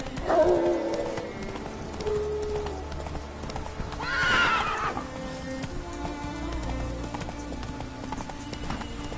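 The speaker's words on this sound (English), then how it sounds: "Whoa there, Roach." A horse in a video game whinnies loudly near the start, then again mid-clip, over steady clip-clop of hooves on the ground.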